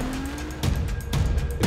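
Nissan GTR R35 making about 1900 wheel horsepower roars past in short loud bursts and shifts, up close and driving hard.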